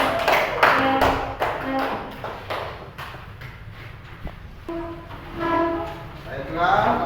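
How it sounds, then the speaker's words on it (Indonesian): A classroom of students applauds a discussion group with a burst of scattered hand claps at the start that thins out, followed by voices talking. "Tepuk tangan untuk kelompok 3"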